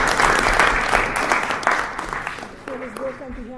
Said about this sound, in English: So I'd like to give a round of applause to Bill